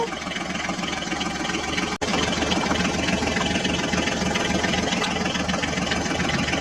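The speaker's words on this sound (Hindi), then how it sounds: "अब हम दोनों मिनी ट्रैक्टर को लेकर खेतों में चलते हैं" A mini tractor engine runs steadily out in farm fields, a continuous mid-pitched chugging drone at close range with one brief dip partway through, and no voices over it.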